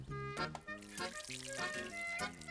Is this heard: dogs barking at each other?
no